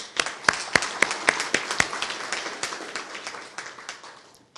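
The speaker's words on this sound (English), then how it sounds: "I want to give you a round of applause also" An audience at a Boy Scouts award ceremony applauds donors, a room full of clapping with sharp individual claps standing out at first, then thinning and fading away.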